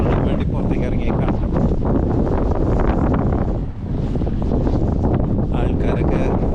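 Cold night wind in the old part of Kiruna buffets the microphone in a constant loud, rough roar that dips briefly for a moment before surging back, with no voices.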